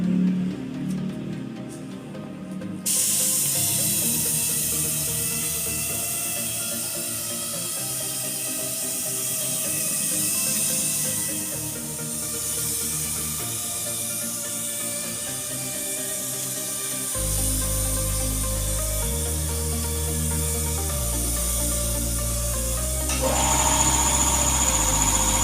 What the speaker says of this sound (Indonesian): Surfacer juga menggunakan teknis sistem overlapping atau sistem tumpang tindih. Jarak semprotan 10 sampai 15 cm dari benda kerja